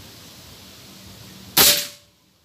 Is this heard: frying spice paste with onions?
no